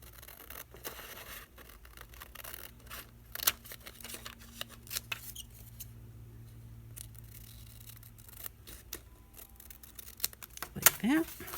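Close scissors trimming excess paper from a handmade zig-zag journal pocket, with quiet scattered snips and rustles over a low steady hum.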